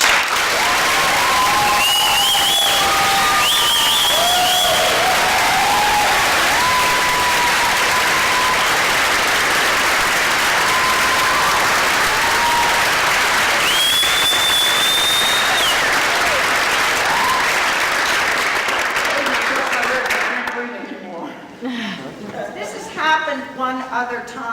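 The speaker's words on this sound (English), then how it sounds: "I think we'd like to give him a big round of applause" An audience at an awards presentation gives a long, loud round of applause with cheering and whistles mixed in, sustained for about twenty seconds before fading into scattered claps and murmuring.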